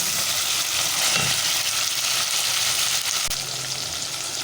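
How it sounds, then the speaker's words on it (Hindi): Tomatoes frying in a pan, a steady close hiss and sizzle with a few soft scrapes of stirring, no voices over it. "टमाटरों को अच्छी तरह से हमें फ्राई करना है"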